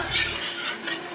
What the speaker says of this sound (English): And we're just gonna stir this.